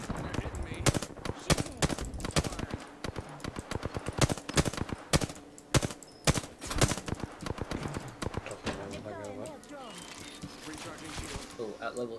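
Gunfire in a battle royale video game, with a sniper firing on the player: dense bursts of loud shots and clattering impacts across the first half, easing into quieter game noise, with a voice talking over it.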